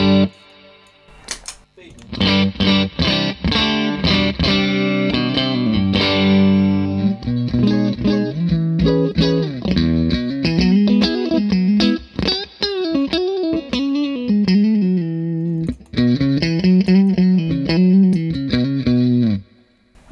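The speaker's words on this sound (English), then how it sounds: "this is going to sound like the tone stack of a big muff, but with no fuzz" Clean electric guitar through a Fuzzrocious Feed Me pedal with a Big Muff style tone stack and no fuzz plays chords and single-note lines, bright and clear at a close, steady level with short pauses.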